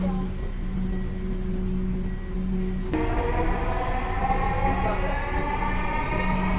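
A Dhaka metro rail train bound for Agargaon stands at a station, a steady electric hum and tonal whine giving way to a rising, brighter mechanical drone as it gets moving, close and loud throughout.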